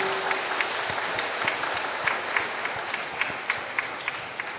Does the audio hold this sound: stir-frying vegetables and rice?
no